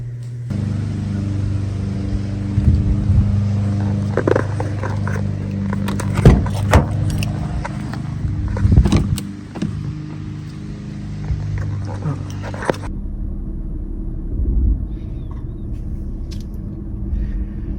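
A car interior on the move: a steady engine and road drone with low tonal hum, occasional rattles and clicks on top, close and fairly loud, easing slightly in the final seconds.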